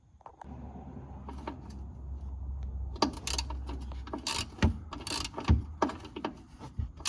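Removing a bolt and clamp on a Polaris Sportsman 570 ATV, a series of close metallic clicks, ratcheting and clanks from hand tools, irregular and moderately loud.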